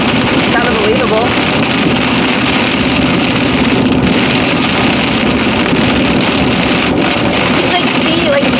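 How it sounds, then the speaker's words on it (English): Rain and wind on a road in western Kentucky during a storm chase: a steady, loud roar of rain and gusting wind noise with no break, heard from inside a moving vehicle. "I'm watching the rain and the wind in front of me on the road"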